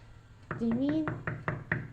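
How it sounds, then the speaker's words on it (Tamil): Knocking on a door at the top of some steps, about six firm, evenly spaced raps heard close, with a voice humming or speaking briefly over the first few knocks. "அவங்க ஸ்டெப்ஸில் ஏறி மேலே போய் கதவை தட்டுறாங்க"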